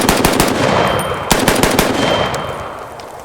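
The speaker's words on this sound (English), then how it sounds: "let's go ahead and just load up like 5 to 10 real quick and just dump them at the rocks just to see how fast I can fire it off" An FN SCAR 17S rifle fires 7.62 rounds in rapid succession at rocks outdoors, a close, loud string of sharp shots in two quick bursts with no talking.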